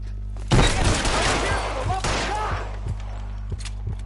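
A shotgun booms in L.A. Noire, one heavy blast followed by a second shot, under a steady low background hum.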